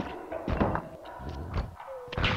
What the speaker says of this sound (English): Kicking the rock, kicking the rock.